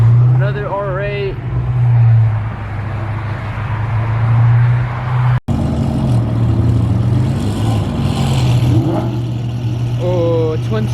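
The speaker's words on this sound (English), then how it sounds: "Oh, twin turbo R8" Twin turbo Audi R8 sports car at a car event, engine droning loudly and steadily nearby with a rise in revs, while people talk and shout over it.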